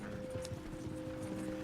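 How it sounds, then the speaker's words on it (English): Video game horses gallop with a quiet, rhythmic clip-clop of hooves under a faint steady hum, several footfalls repeating evenly over a short stretch. "You're gonna lame these horses."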